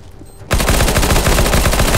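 Rapid, loud bursts of P90 submachine gun fire in Counter-Strike: Global Offensive on the Dust2 map start abruptly after a brief quiet moment and run continuously as a dense automatic stream up close.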